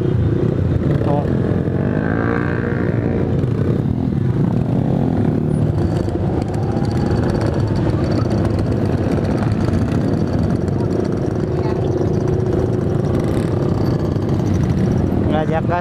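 A Suzuki Satria FU motorcycle engine roars and revs loudly and close by, a continuous buzzing drone with rising pitch sweeps, while voices talk over it.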